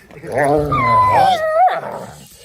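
A dog makes a drawn-out, wavering vocalization close by, sliding in pitch between a growl and a whine.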